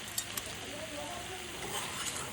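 Vegetables frying with spices in a pan give a steady close sizzle, with a couple of light stirring taps at the start.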